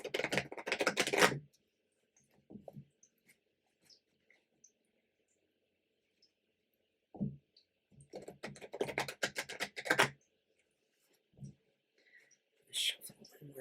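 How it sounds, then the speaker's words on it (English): Tarot cards are shuffled in two quick bursts, one at the start and a longer one later, each a crisp, close riffle separated by near silence and a few soft taps. "Shuffle one more time."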